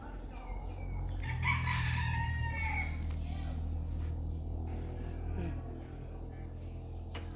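Chickens on a Chanthaburi rabbit farm, including Thai native birds, give a rooster's crow near the start, followed by scattered clucking over a steady low farm hum.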